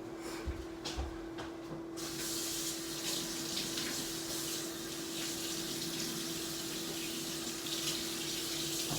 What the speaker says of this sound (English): I'm gonna clean off my cutting board real fast